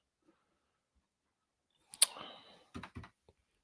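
A computer keyboard clatters in a short burst of quick, close key clicks after a stretch of near silence, followed by a few separate taps.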